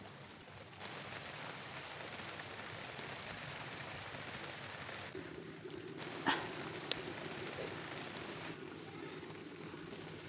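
Faint, steady rain hiss over a rooftop garden runs throughout with no one speaking, a quiet wash of falling water and a couple of small taps.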